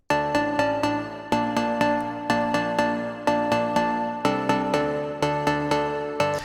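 A house track break opens up with a bright synth layer stabbing out short, plucky chords in a steady, bouncing rhythm, each note decaying quickly before the next, clean and upfront with no voices.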